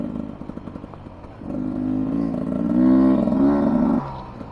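A 2023 Beta 300 Race Edition two-stroke dirt bike engine on a trail, droning steadily, then revving louder and higher through the middle before dropping back, close by with no talk.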